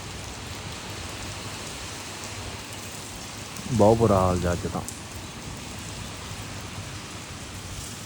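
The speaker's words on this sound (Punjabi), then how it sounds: "ਹਲੇ ਤੱਕ ਤਾਂ ਮੀਂਹ ਪਈ ਹੀ ਰਿਹਾ" Steady rain hisses throughout over a sugarcane farm in strong wind, with a voice speaking briefly over it midway.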